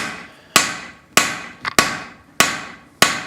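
Cross peen hammer striking a hot steel hatchet on an anvil, five sharp ringing blows at a steady rhythm about 0.6 seconds apart, each decaying quickly, plus one lighter tap between them, close and loud with no talk.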